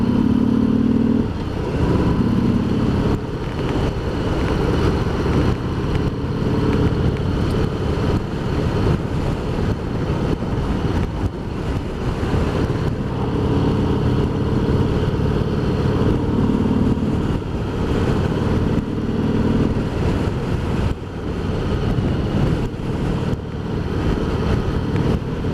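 Harley-Davidson Sport Glide cruising on countryside roads, its engine rumble steady and close throughout with heavy wind buffeting layered on top, no talking.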